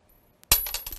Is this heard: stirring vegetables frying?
no